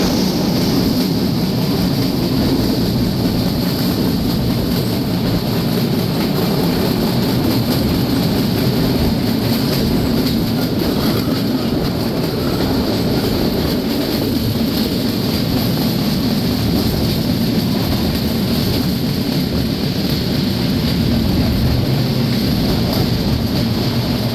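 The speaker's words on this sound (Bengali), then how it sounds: "মাত্র 10 মিনিটের যাত্রা শেষে ট্রেনটি প্রবেশ করলো তার 6 নম্বর স্টপেজ মিরপুর রেলওয়ে স্টেশনে" The Sagardari Express train pulls into Mirpur railway station with a loud, continuous rumble and rolling rail noise that holds steady throughout, with no voices.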